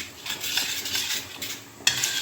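Metal utensils clink and scrape against a dish while marinade ingredients for baked fish, including lemon, are mixed, a steady stirring clatter that swells and then sharpens into a brighter knock near the end, with no talk.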